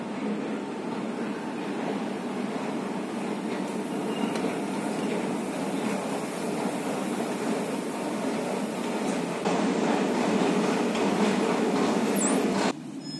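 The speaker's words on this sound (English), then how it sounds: "and the trains are some new metro trains" A new Warsaw Metro Line 2 train runs with a steady, loud rumble and hum that holds for the whole stretch, rising slightly near the end before a brief drop.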